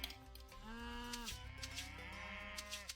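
Cattle in the Age of Mythology strategy game give several long, low moos one after another, steady and clear with no talk over them.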